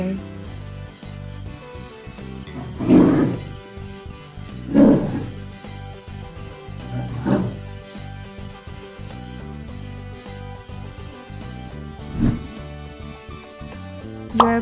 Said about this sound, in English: Polar bear.